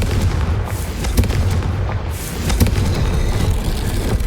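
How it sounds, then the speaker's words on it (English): A Confringo blasting curse explodes in the Hogwarts Legacy video game, a loud booming blast with rumbling low-end debris over steady game ambience. "Confringo!"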